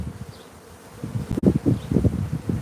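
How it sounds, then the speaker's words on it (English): A swarm of leftover honey bees buzzing close by in a steady, droning hum with pulsing swells of louder wingbeats, heard outdoors with no talking. "These are remnant bees here."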